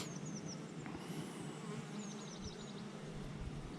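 Honey bees buzz steadily at a small backyard apiary, a dense close hum with faint higher chirps from birds in the background.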